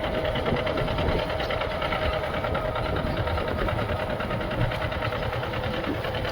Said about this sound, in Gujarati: પહેલા ગેરમાં આપણે ટ્રેક્ટર હકાવ્યું છે